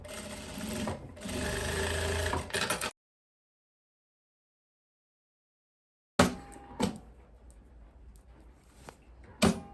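A sewing machine topstitches a viscose summer dress, running loud and steady for about three seconds, then falling silent before short bursts of fabric handling and clicks return.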